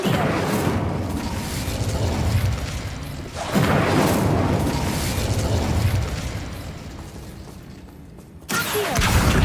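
Incendio fire spell in Hogwarts Legacy erupts in booming, rumbling bursts of flame, with a couple of big swells over continuous game sound before a short drop-out.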